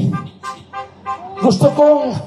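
Car horns toot and honk close by at an anti-corruption protest, mixed with a person speaking over them.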